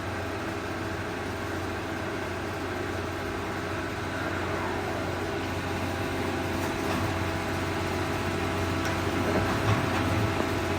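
A Monarch 24-by-80-inch engine lathe runs at 120 RPM, giving a steady, even mechanical hum and whir with no change in pace and no voices.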